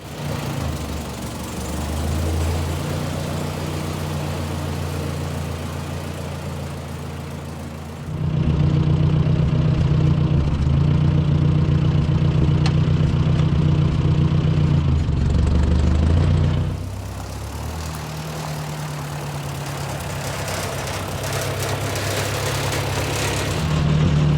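A tractor engine runs steadily for a long stretch, its low rumble rising louder midway as it revs, then settling back to an idle.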